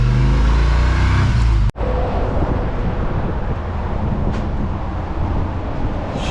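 Chevy C20 truck after years in storage, throttle stuck wide open, driving along a road. A loud, steady engine drone and road rumble are heard from inside, with a sudden brief dropout partway through.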